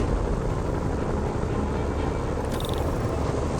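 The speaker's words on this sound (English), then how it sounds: "Bet I can use those helicopters to swing." A helicopter in the video game Marvel's Spider-Man: a constant loud rotor and engine drone that holds steady throughout, with a faint high chirp near the end.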